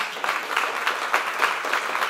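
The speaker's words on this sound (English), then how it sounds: "Let's give him a big round of applause" Audience applauding at a talk or lecture event, a steady dense wash of clapping that holds evenly for the whole stretch without voices.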